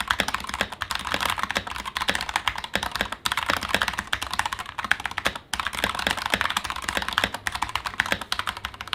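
Steady typing on a Logitech Bluetooth computer keyboard, a dense, continuous patter of close key clicks and clacks with brief pauses, no voices.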